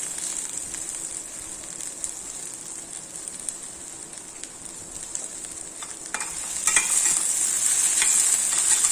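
Okra (vendakkai) stir-frying in a pan makes a constant hissing sizzle with occasional scraping of a stirring utensil, growing louder and more crackly toward the end, close and without speech.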